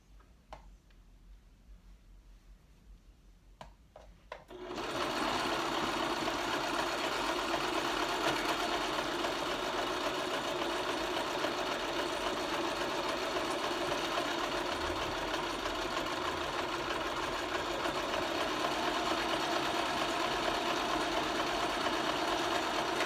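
A few faint clicks in quiet, then a sewing machine starts and runs continuously stitching T-shirt fabric, a fast steady mechanical whirring and ticking, close and even.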